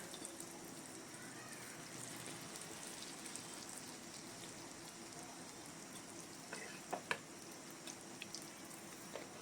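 Oats batter fries in oil as small roti-sized rounds, giving a faint, steady crackling sizzle throughout, with a couple of brief ticks near the end.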